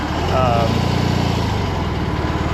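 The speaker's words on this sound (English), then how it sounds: "you can just hear the valves ticking like crazy" BMW R18 boxer motorcycle engine idling nearby with a rapid, busy valve ticking over a low pulsing rumble, while a voice talks over it.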